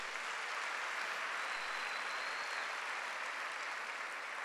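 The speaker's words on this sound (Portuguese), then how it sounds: "Dá um aplauso ao Senhor Jesus." Church congregation at a Sunday service applauding, a soft, even wash of many hands that sounds distant and muted, with no breaks or talking over it.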